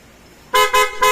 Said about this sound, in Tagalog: Tapos, titest na natin gumagana na yung busina nito.